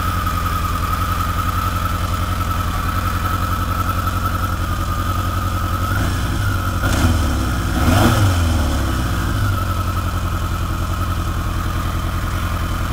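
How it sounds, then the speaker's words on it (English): A motorcycle engine runs with the choke set halfway, idling loud and steady close by, while the RPM is eased up and back down in a brief swell near the middle. "Set our choke about halfway. And we'll yo-yo back and forth on the RPM here."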